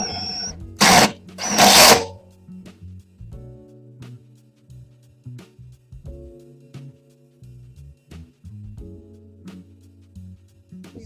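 Power drill driving a set screw into a gutter, a steady motor whir in short runs with pauses between them after a couple of loud bursts at the start.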